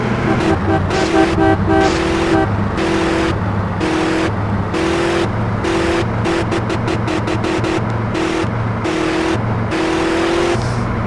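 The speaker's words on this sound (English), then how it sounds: "It's these old cars in San Andreas just have a really irritating engine." A rough old car engine in GTA San Andreas drones continuously while a horn toots in repeated short bursts, some quick and clustered, loud and close, like game sound effects.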